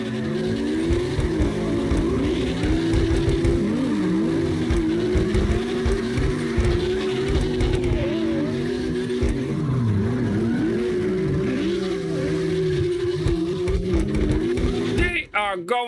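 Several cars drift in CarX Drift Racing Online at Red Rock, with revving engines and long, wavering tire squeals overlapping continuously and loudly, under a person talking.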